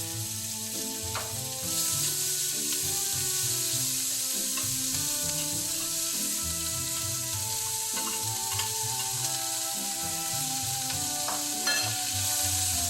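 Shallot frying in a pan for apple and pork stew, a steady close sizzle under a continuous layer of background music, with no talk.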